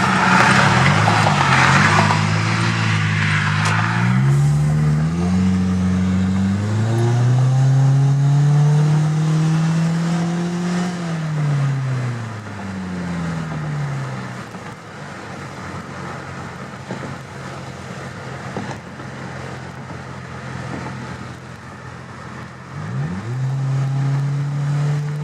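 A 2017 Toyota Corolla SE exhaust drones while driving, its note rising and falling through acceleration, with wind hiss at the start and a steady low hum later.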